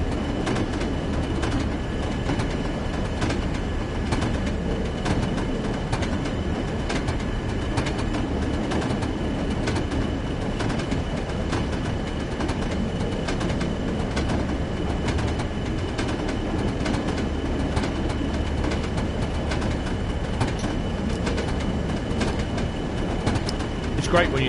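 A diesel multiple unit train in Train Sim World on a snowy route: a steady, loud rumble of rolling wheels and carriage noise with faint rhythmic clicks, continuous throughout, with some talk mixed in.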